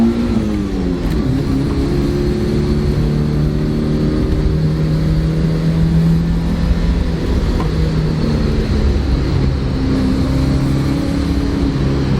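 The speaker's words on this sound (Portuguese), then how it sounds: "eu vou acelerar porque o meu objetivo é ver o final de marcha" Fiat Uno car engine accelerating through a gear, a loud close drone rising steadily in pitch, easing briefly, then climbing again, with no talk.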